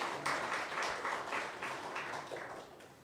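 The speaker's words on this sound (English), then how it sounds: "A round of applause for Matthew." A church congregation applauds for Matthew, a fairly quiet, distant round of clapping in a large room that swells and then gradually tapers off.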